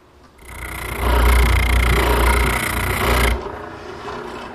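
A power sander works the edges of a wooden Morris chair armrest in a workshop, a loud continuous rasping whir that starts abruptly, holds for about two seconds and cuts off cleanly.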